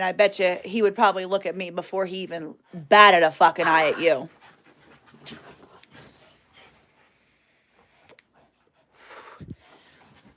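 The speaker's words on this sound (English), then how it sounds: "my dogs are going a little crazy right now." Pet dogs playing indoors pant and snuffle quietly in the background while someone talks over them, then the panting continues faintly on its own.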